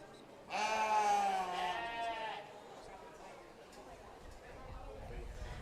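A sheep lets out one clear, drawn-out bleat lasting about two seconds in a breeding ewe class at the Las Animas County Fair 2023 sheep show, with crowd murmur and a commentator's voice around it.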